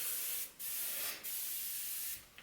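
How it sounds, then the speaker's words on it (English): Moroccanoil textured spray hissing from an aerosol can into hair during wedding hair prep, three close sprays in a row, each a steady hiss separated by short gaps. "I will go through her whole bottom of her head and just throw in some textured spray."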